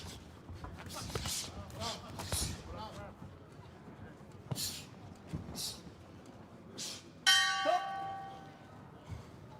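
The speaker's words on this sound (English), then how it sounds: "Bell goes at the end of the first." Boxing ring bell at an amateur heavyweight bout, rung loudly once with a ringing decay after ringside commentary, punches and crowd noise.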